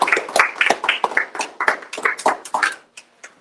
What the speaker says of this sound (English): Please give her a very, very, very big round of applause.